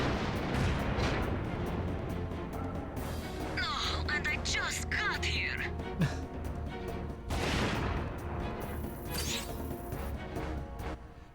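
Explosions and crashing blasts in the video game Front Mission 4 burst over a dense battle soundscape, several loud impacts in quick succession amid ongoing game noise.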